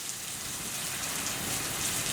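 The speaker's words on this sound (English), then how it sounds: "it started to rain out there" Steady rain falls outside, a dense even hiss of drops pattering on surfaces, close and constant with no voices.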